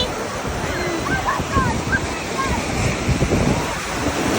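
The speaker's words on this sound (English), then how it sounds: "The water's coming, Jamie." Ocean surf at Old Orchard Beach, a broad rushing wash of waves breaking and rolling in close by, steady with gentle swells, with a voice speaking briefly over it.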